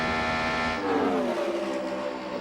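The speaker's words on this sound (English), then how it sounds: "we can hear how much he's having to roll out of the throttle in the corners" In-car sound of a 1999 Indianapolis 500 Indy race car engine, a loud high-pitched whine that drops in pitch as the driver rolls out of the throttle for a corner, then holds lower, with no talk.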